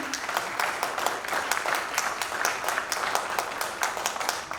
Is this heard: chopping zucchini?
no